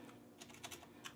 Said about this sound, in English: excuse the keyboard types here